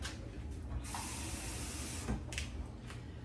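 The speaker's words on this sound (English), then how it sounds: "But I'll just add a tiny bit of water." Water poured into a pot of food cooking on the stove, a steady hissing splash and sizzle starting suddenly and running for a couple of seconds over background kitchen noise.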